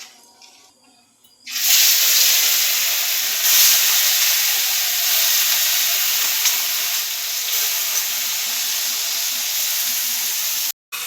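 Food dropped into hot oil in a village kitchen for a pond fish curry bursts into a loud, close, continuous hiss and sizzle that runs steadily after a quieter start and cuts off briefly near the end.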